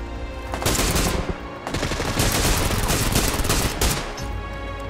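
Automatic weapon fire in the online shooter PUBG Lite, sustained rapid bursts of gunshots with a short pause near the start, loud and close, with no talking.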